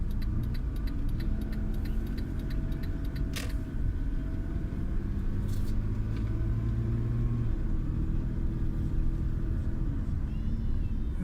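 An old-model Nissan Cefiro with a transmission problem drives along a road in the rain, its engine and road noise a steady low rumble inside the cabin, with faint ticking and a few brief clicks.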